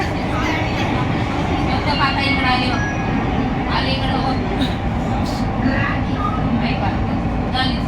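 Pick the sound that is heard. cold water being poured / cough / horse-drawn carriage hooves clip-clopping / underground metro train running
underground metro train running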